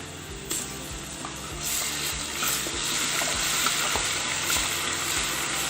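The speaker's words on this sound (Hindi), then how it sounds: "और इसे भी अच्छे से हम फ्राई कर लेंगे।" Garlic and ginger paste frying in hot oil, a continuous crackling sizzle with stirring scrapes, steady and close, no voices.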